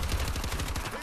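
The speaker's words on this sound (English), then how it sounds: "Just shoot everywhere. I'm shooting everywhere." Automatic weapon fire in Call of Duty: Advanced Warfare multiplayer, a rapid, continuous burst of shots at a fairly close, steady level.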